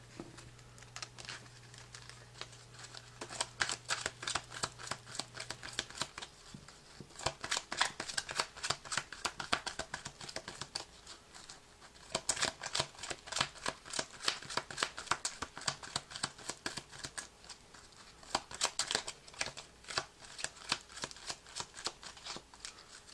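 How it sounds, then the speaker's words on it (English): Cardfight Vanguard trading cards shuffled into a deck during a tabletop match, heard as repeated bursts of rapid riffling clicks separated by short pauses, close and crisp, with no talking. "And the rest are shuffled into my deck."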